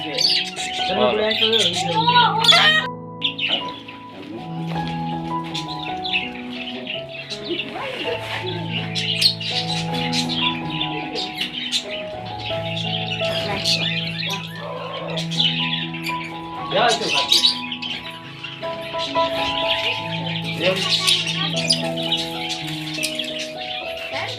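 Small birds chirp and tweet busily in a backyard aviary cage with a rooster perched on top. The calls are near, layered and continuous, with occasional squawks, while people talk over them.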